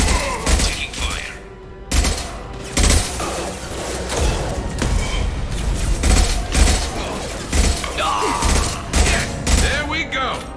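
Heavy gunfire in the game Mass Effect 2 during the Archangel dossier mission, with dense bursts of automatic fire and thuds sounding near and loud throughout, and game voices speaking under the shooting.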